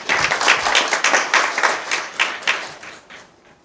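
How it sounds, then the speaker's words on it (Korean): An audience at a periodontology society event claps to welcome a professor, with dense applause that swells in waves and then fades out. "큰 박수로 환영해 주시기 바랍니다."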